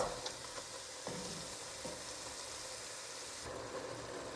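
Ground beef, onion and garlic browning together in a pan for beef chili, giving a steady, low sizzle and hiss throughout with a few soft stirring clicks, close up and with no talking.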